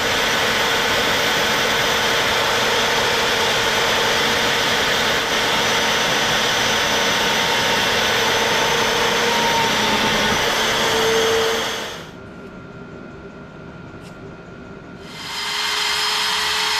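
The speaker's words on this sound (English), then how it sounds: "I want to use a drill at least as thick as the thickness of the steel" A loud, steady high-pitched drill whine runs continuously as it bores pilot holes in steel for a rocket stove, then briefly cuts out and spins back up near the end.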